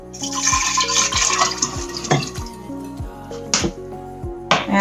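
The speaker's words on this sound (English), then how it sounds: "I'm going to go ahead and pour in that 4 cups, the extra 2 cups" Water pours and splashes into a 2-cup measuring cup, with a few clinks and drips, close and fairly loud, tapering into intermittent splashes.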